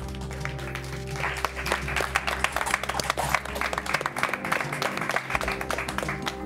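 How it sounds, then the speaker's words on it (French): A studio audience at a live French television hypnosis show bursts into dense, sustained applause, many hands clapping steadily at close range for several seconds. "On peut applaudir, s'il vous plaît."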